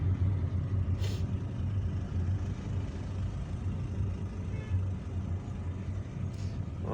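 A car driving through the streets of Algiers, heading from Clairval in Bouzareah toward Jolie Vue in Kouba, its engine giving a steady low rumble inside the cabin, with a couple of brief faint hisses and no speech.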